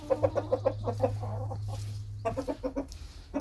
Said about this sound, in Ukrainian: Ось вони інші кури. Що, курочки?